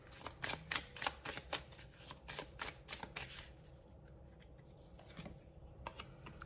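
Cartomancy cards being shuffled and drawn during a tarot-style reading: a run of quick, crisp card riffles and flicks, close and fairly quiet, thinning out to a few sparse snaps, with no talking.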